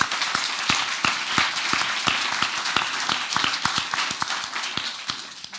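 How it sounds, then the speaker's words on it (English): An audience at a talk on national surveillance claps in steady applause, with dense, evenly spread hand claps at moderate volume that gradually thin toward the end. "a round of applause for Steve."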